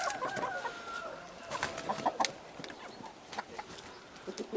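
Chickens and roosters clucking in short, scattered bursts, a few birds close by, with a busy farmyard murmur underneath.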